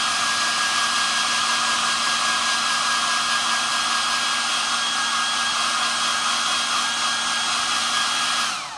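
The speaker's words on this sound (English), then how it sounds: "I'm going to put the hairdryer on full heat" A hair dryer running steadily at full heat to dry flash paper, a continuous close whoosh of airflow with a steady motor hum, unbroken for about nine seconds before it switches off.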